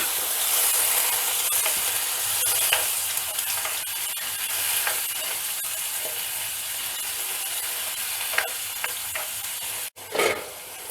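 Hot pan of drumstick milk curry with ginger and garlic, one glass of water poured in, giving a loud steady sizzling hiss with scraping stirs and a brief clatter near the end.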